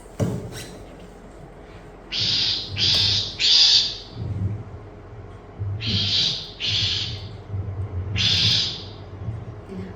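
Shrike alarm calls near a nest on an open alvar: harsh, raspy bursts repeated in clusters of two or three, fairly loud and close, with short pauses between groups and no talk.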